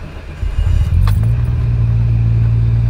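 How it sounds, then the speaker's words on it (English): A December 1997 Nissan Stagea 260RS, sitting in neutral, cranks briefly and its engine catches. It then settles into a steady, low idle rumble, loud and close. "Car is started."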